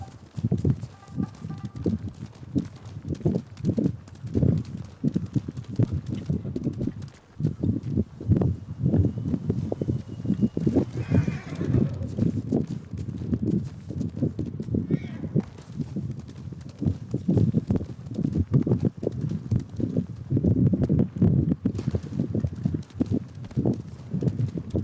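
Horse hooves clip-clop steadily through a Ghost of Tsushima game scene on Iki Island, a continuous rhythmic pattern carrying across the whole stretch with a voice talking at times over it.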